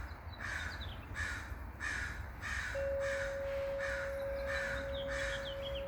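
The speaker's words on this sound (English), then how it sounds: "You can hear the crows yelling at me in the background." Outdoor crows caw repeatedly in an even rhythm, roughly one harsh call every half second to second, somewhat distant, over a steady background hum with no talking.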